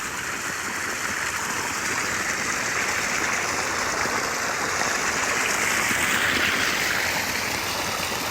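Irrigation water pours steadily into a farm field, a constant close rushing and gurgling flow with no break.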